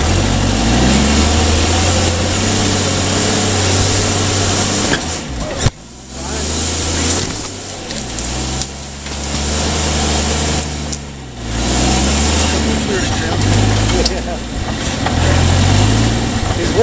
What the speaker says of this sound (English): That reverse is some low gear.